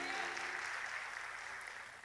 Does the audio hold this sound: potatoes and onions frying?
no